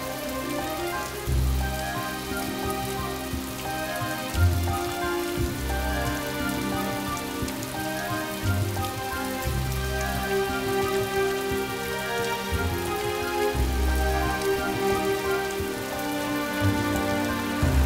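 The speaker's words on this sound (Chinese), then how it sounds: "外面在下雨" Steady rain falls outside on a rainy night during the New Year holiday, a constant dense patter mixed with a soft, sustained musical background, with no speech.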